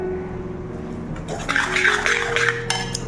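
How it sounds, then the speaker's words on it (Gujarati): Jaggery sukhadi mixture is scraped from a pan onto a ghee-greased plate, with close metallic scraping and clattering that grows busier after a quieter start, plus a faint steady hum underneath. "ચલો ફટાફટ ટ્રાન્સફર કરી લઈએ પ્લેટમાં"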